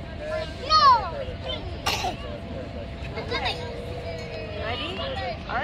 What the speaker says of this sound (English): now he's coughing in your face.